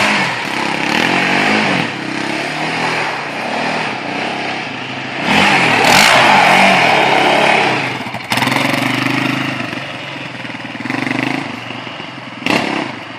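Raptor 700 ATV engine revving hard while spinning donuts on wet ground in the rain, a loud, rough, continuous motor roar that surges and fades with throttle, with a few sharp bursts near the end.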